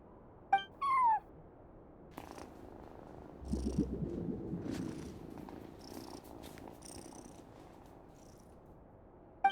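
A cat at a video game's front desk purrs softly in a low, steady rumble, with a short meow at the start and faint game ambience and chimes around it.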